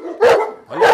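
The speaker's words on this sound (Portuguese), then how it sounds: "É uma cadela que ainda não se acalmou." An angry female Fila Brasileiro guard dog barks twice, loud and close, each bark a sharp, throaty burst separated by a short pause.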